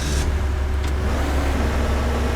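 A car engine in the destruction sandbox game Teardown drones steadily and loudly throughout, with a low constant rumble and no voices.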